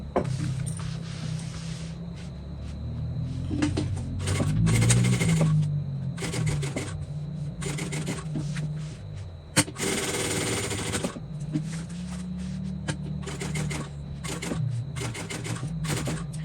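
A sewing machine top-stitches a bowler bag in fast rattling bursts separated by short pauses, loud and close, with one sharp click partway through and no talk.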